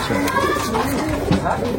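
A pair of Saharanpuri pigeons coo up close, low throaty rolling calls repeating over a faint background, fairly loud and near.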